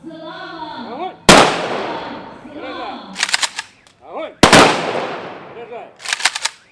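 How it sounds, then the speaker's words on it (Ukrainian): Memorial gun salute fired into the sky for fallen soldiers at a memorial opening in Ukraine: two loud sharp volleys, each followed by a rapid burst of crackling shots and echoing decay, with speech between. "Пам'ять загиблих на сході України бійців побратими вшанували пострілами у небо."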